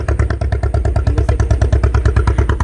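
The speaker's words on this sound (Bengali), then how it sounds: "একটা নৌকা যাচ্ছে," A BSF motor boat runs along the river at the India–Bangladesh border near Taki, its engine thudding in a fast, steady chugging pulse, loud and close throughout.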